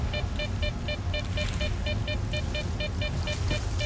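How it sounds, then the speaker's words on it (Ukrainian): An anomaly in the S.T.A.L.K.E.R. 2 video game beeps rapidly in a steady series of short electronic pips, heard over a dense low rumble of ambient game noise. "Це зараз пікає аномалія."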